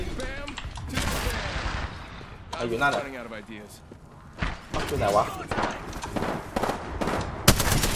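Apex Legends gunfire bursts out in sharp volleys alongside excited talking, with loud impacts scattered throughout.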